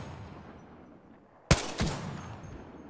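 Gunfire in Apex Legends: a quiet lull broken by two close, sharp shots about a third of a second apart, each followed by a brief rumbling decay.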